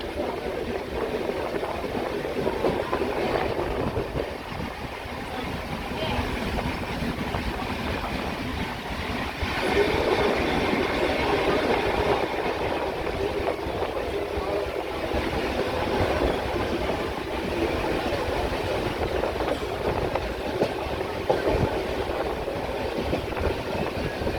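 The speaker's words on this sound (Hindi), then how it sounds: "धुआई हाल्ट से अपनी मंजिल की तरफ रवाना होते हुए हम और हमारी ट्रेन" A Northern Railway train pulling away from Duhai halt near the Delhi–Meerut line, heard from on board as a continuous loud rumble of wheels and carriage noise with wind rushing past.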